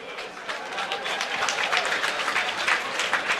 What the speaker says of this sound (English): big round of applause to both fighters.